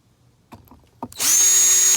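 A power drill on a low torque setting drives screws back into a 2014 Nissan Pathfinder door, starting after a couple of soft clicks and then whirring loudly and steadily up close.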